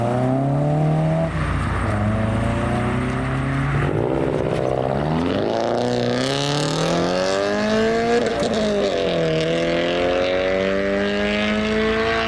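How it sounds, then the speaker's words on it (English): A Toyota Celica GT2000 engine revs up and shifts through gears as it pulls away, pitch climbing and dropping repeatedly, loud and close. "the Celica GT2000 is the next to depart"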